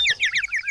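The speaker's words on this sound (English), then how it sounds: "We heard the birds singing, Rat." Little birds for sale in a shop sing a quick run of bright, high chirps, close and clear, with brief gaps between the notes.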